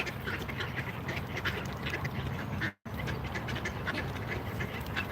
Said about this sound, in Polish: Many ducks.